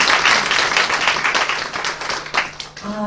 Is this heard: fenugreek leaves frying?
no